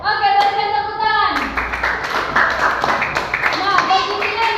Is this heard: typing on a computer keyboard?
no